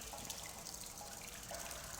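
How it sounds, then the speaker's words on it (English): A faint, steady trickle of water runs through a Portal 2 test chamber, a soft continuous wash with a few light drip-like accents and no speech. "Well, I don't love this particular water effect,"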